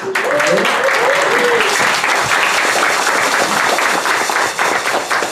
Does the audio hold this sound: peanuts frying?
no